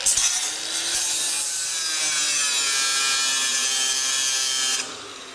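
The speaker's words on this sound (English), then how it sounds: "grab your cutoff tool, jigsaw or sawzall, cut out the piece." A power saw, such as a jigsaw or reciprocating saw, cutting out a pickup truck body panel: a steady, loud, harsh buzzing rasp runs almost the whole stretch and then cuts off abruptly near the end, with no talking.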